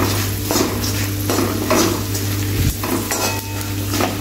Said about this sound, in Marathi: अशाच प्रकारे मी राहिलेला डिंक तळून घेते।